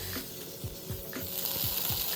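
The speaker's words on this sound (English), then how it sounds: "Don't you love the sizzling sound?" Steady sizzling of tofu burger patties brushed with sauce on a hot grill, a continuous crackling hiss with faint clinks and scrapes now and then, close up and with no talking.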